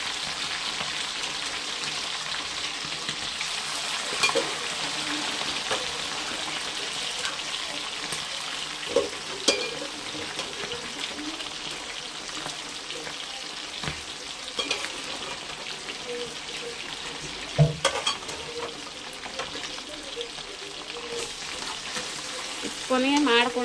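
Dry chicken pieces fry in a pan with a continuous crackling sizzle, broken by occasional sharp pops and the clack of a spatula, and nothing else covering it.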